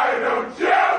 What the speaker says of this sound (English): they're all clapping and chanting and singing